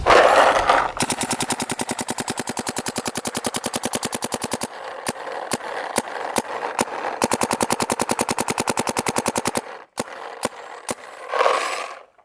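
A paintball marker fitted with an HK Army LAZR barrel fires a long rapid-fire string of sharp, close pops, then a handful of spaced single shots, then a short final burst.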